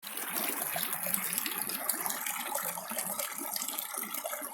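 Creek water rushing around an obstruction during gold panning in the Uwharrie area, a steady close burble and splash that holds constant throughout, with no voices over it.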